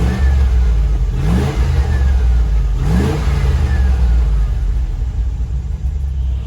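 A neglected Range Rover's engine rumbles loudly up close, with two distinct revving surges as it pulls away, then settles into a steady driving drone.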